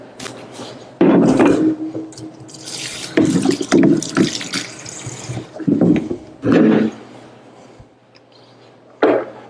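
Cool water running from a kitchen tap into a salad spinner holding lettuce, in splashing bursts of varying strength with brief pauses between them, close and fairly loud.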